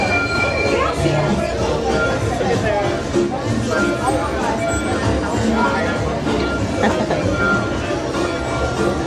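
A Disney Hollywood Studios ride train rolls along its rails, with continuous rumbling and wheel noise under a busy crowd and a voice talking.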